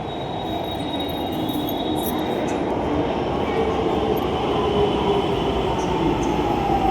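A metro train rolls through a metro station with a loud, steady rumble and a long, thin squeal from its wheels on the rails, continuing for the whole stretch.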